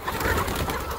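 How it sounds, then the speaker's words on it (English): Dense chatter of many Hyline Brown chickens clucking and calling at once, a steady busy flock filling the whole second. "A sea of Hyline brown chickens."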